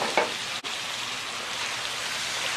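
Seasoned shrimp tossed in masala curry in a hot pan give a close, steady sizzle and crackle with a brief clatter early on, and no voices.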